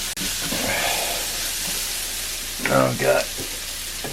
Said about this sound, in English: I'm going to put the bacon back in. Give this whole thing a nice stir.